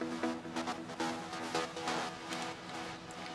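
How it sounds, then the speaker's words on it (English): Dense electronic dance production with a shaped acid synth line, reverb-treated pluck layers and steady rhythmic pulses sounding together at full level, with no talking. "And then an acid also shaped."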